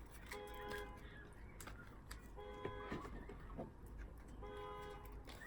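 Car horn toots sound outside in short repeated beeps, several bursts spread across the stretch, moderately distant, over a steady background hum.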